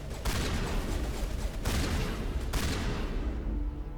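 Shotgun fire in the video game Mass Effect Legendary Edition, a dense stretch of loud, booming blasts with a few sharp breaks between bursts, fading toward the end.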